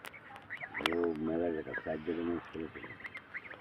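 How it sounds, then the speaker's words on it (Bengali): Muscovy ducks give a run of harsh, raspy quacks and honks at close range, several calls in quick succession, with voices talking nearby. "রাজা হাঁস"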